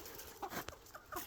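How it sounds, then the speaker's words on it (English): Hens in a breeding cage let out a few soft, scattered clucks and shuffling sounds, faint and close by, with quiet gaps between them. "This is all my hens that I got for breeding this year."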